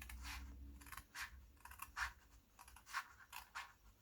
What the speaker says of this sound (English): when we turn to cut out the rest of our corner, we're going to cut along this middle score line here